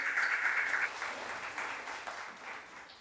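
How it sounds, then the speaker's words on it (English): Applause from a school reunion audience for a new scholarship winner, a dense wash of clapping that starts full and slowly thins out over a few seconds, with no voices over it. "Give them a round of applause"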